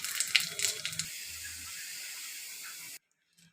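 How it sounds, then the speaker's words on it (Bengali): Cumin seeds, two dried chillies and a bay leaf go into hot oil and set off a steady hissing sizzle. A few clicks come at the start, and the sizzle cuts off abruptly after about three seconds. "দেখো তেলটা গরম হয়ে গেছে, আমি দিয়ে দেবো জিরে ফোড়ন, দেবো 2টো শুকনো লঙ্কা ফোড়ন, আর দেবো তেজপাতা।"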